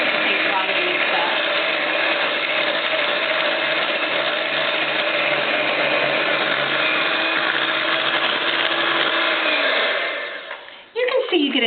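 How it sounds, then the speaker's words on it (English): A small hand mixer whips butter and cream cheese into maple cream butter, a steady, close whirring motor running for about ten seconds before switching off near the end. "I switch over and put a little hand mixer on for a minute"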